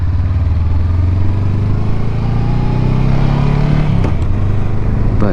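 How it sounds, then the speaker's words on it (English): Motorcycle engine running steadily at close range, a continuous low rumble with a rising pitch as it accelerates, plus a brief clatter near the end, heard alone with no talk. "we got the bike in full action today"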